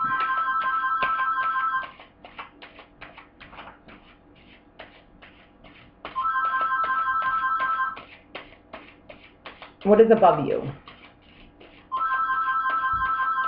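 A phone rings in three bursts of repeated electronic trills spaced several seconds apart, loud and close, with someone speaking briefly between rings amid quiet room shuffling.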